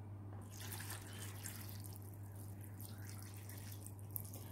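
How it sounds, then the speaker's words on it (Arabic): Water is poured into a pot of artichokes already seasoned with salt, lemon juice and oil, a soft, faint trickle over a low electrical hum. "آخر شيء بدي اضيف المي."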